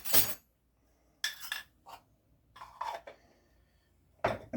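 Metal utensil clinks and scrapes against a bowl in several separate bursts while dry cookie ingredients, flour with a little salt for lemon coolers, are stirred together; brief, close and fairly quiet with pauses between strokes.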